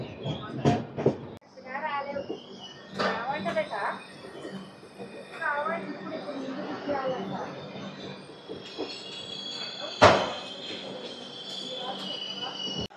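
The Rayalaseema Superfast Express, number 12794, runs at Chittapur railway station with rumbling rail noise, squealing wheels and a sharp loud clank near the end, while voices talk over it.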